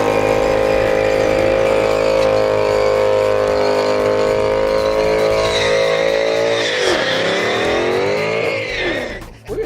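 A tuned car worth over 150K does a burnout at a drag strip: a loud, sustained engine drone held near, then revving upward and wavering as the tyres break loose, cutting off at the end.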